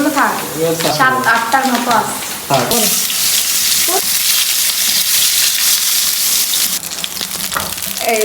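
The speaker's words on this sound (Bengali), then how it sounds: "দেখেন কোফতাগুলো খুব সুন্দর করে টাটকা ভাজা দিচ্ছি" Kofta balls frying in hot oil give a loud, continuous, crackling sizzle that dominates throughout, with brief voices talking early on and a faint watery splash underneath.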